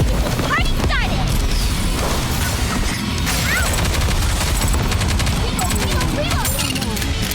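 Gunfire in the mobile shooter NIKKE: dense, continuous bursts of rapid shots and crashing impacts layered over game music and effects, loud and relentless for the whole stretch, with a voice talking over it.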